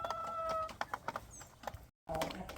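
Hens cluck in short bursts with some high chirping, likely from older hens kept for laying, heard moderately close and alone, with a brief silent gap before the sounds resume.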